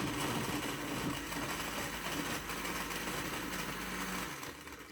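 A kitchen blender blending homemade juice with milk, running steadily with a loud, continuous motor whir close by, dipping slightly as it winds down at the end; no talking.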